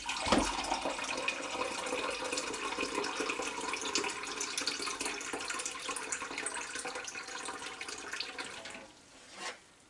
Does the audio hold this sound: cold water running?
yes